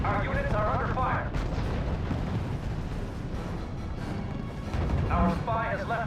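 Artillery and gunfire boom steadily through a World War II strategy battle in RUSE, a dense continuous rumble of blasts, with radio-style voices speaking briefly at the start and end.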